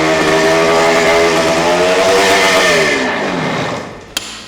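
A motorcycle engine, one of several bikes being flipped for resale, runs loud and close with a steady revving drone and a rising-and-falling pitch, then winds down near the end, cut by a sharp click.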